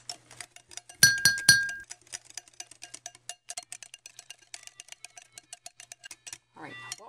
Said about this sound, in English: I'll just whisk.